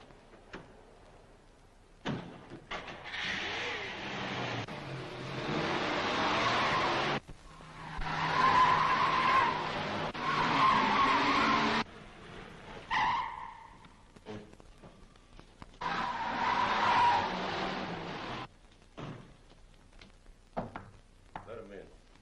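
A getaway car in a radio drama tears off with long bursts of skidding, squealing tyres, several loud surges separated by quiet gaps, with spoken dialogue between them.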